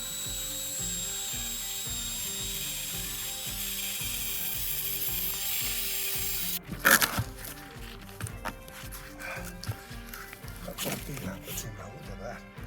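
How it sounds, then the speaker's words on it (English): A big log of bull oak hardwood being cut, with a steady mechanical drone for about six seconds before it breaks into irregular cracks, knocks and bursts, fairly close and loud. "Keep doing some cutting now here for a bit."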